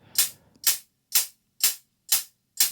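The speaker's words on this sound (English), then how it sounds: "I added a closed hat loop and I panned a little bit to the right" A tech house closed hi-hat loop, panned slightly right, ticks in a steady rhythm, six short, crisp, bright hits evenly spaced, with nothing else playing.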